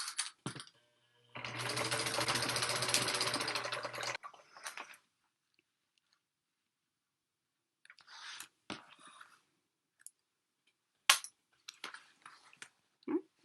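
Sewing machine stitching a half-inch construction seam on a vinyl tote, one steady close run of fast even needle chatter lasting a few seconds, then scattered light handling taps and rustles.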